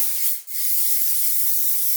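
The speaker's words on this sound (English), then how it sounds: "let me just again spray these new ones with a little bit of the hairspray." Hairspray from an aerosol can is sprayed onto sections of hair during blow-dried wave styling with a round brush, making a steady close hiss for about two seconds with one quick break near the start.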